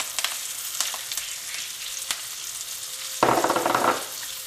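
Onion and curry leaves sautéing in hot oil for a tomato paste make a close, continuous sizzle with faint crackles, then a sudden louder burst of frying as more goes into the pan.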